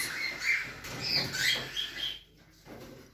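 Cockatiel chicks in a breeding box, soft close chirps and raspy begging squeaks coming in short bursts, with a quiet pause near the end.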